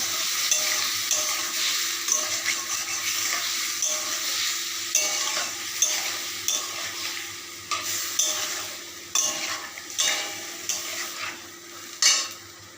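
Lote fish fries with garlic and salt as a spatula stirs it in the pan, a constant sizzle punctuated by repeated scraping and knocking of the utensil that grows more frequent toward the end.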